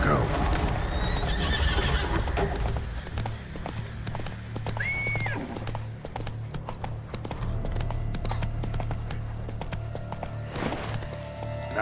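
Geralt's horse Roach in The Witcher 3: Blood and Wine, neighing and galloping with a whinny and clip-clop hooves amid game sound effects, with speech over it.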